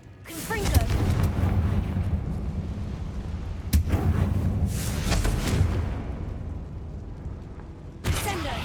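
A fire spell cast in combat in the video game Hogwarts Legacy, a loud booming blast that rumbles on for several seconds, with a second sharp burst near the end.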